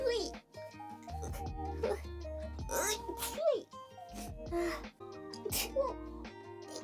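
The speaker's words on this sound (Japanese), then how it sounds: "くしゃみ出そう" A young woman's sneeze, with small squeaky voiced sounds before and after it, under her own close talking.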